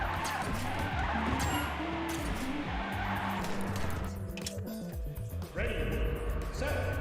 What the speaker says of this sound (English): I gotta figure out which ways I want to drift on these.